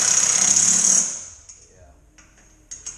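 A power tool tightening a bolt against plastic, with steel behind it, on Maverick side-by-side doors, buzzing loudly and close for about a second before stopping; faint clicks and handling noises follow.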